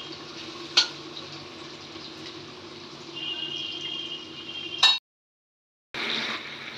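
Potatoes frying in a pan for a home-cooked fusion lunch, a steady close sizzle running throughout with a couple of brief clatters, one sharp knock before a sudden cutout and then the frying hiss resuming.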